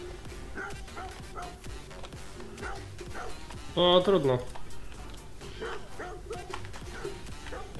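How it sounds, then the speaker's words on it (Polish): A neighbour's dog barks and yelps in a short, loud burst in the middle, with fainter barks before and after and someone talking throughout. "jakiś pies za mną drze mordę."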